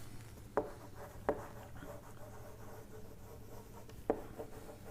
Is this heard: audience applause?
no